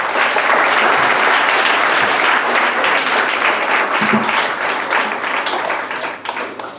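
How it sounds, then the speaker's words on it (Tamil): An audience claps loudly and continuously, a thick wash of many hands that tapers slightly toward the end. "முதல்ல ஒரு கைத்தட்டில் கொடுத்துக்கோங்க"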